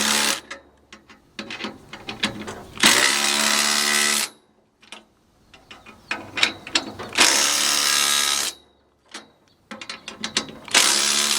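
A hand ratchet tightens the U-bolt nuts on a trailer axle in rapid clicking bursts, with several loud runs separated by short pauses and quieter single clicks.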